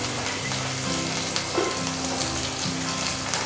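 Paneer fries in butter in a pan with a steady, dense sizzle and faint crackle, close and continuous, with no speech.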